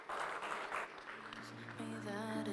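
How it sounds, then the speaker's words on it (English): A conference audience at a fintech summit applauds as a speaker walks on stage, a steady wash of clapping from a large hall heard at moderate distance, with music or a tonal bed rising near the end. "A round of applause for him as he comes up on stage."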